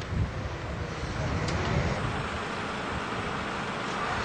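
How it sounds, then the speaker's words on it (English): A small 20 horsepower Tsurumi slurry pump runs at a site, giving a steady, loud broadband roar with a constant drone and no pauses or talk. "This is a small 20 horsepower pump that will outperform a front-end loader."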